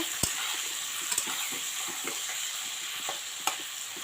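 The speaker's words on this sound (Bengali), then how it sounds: "কয়েকটা রসুনের টুকরো, তো এটাকে সুন্দর করে ভেজে নেব" Pieces of garlic fry in hot oil for a home-style spicy sea fish curry, giving a steady close sizzle with occasional sharp clicks of a utensil against the pan.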